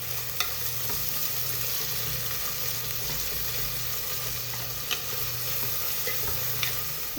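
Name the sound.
onions sautéing with salt in a pan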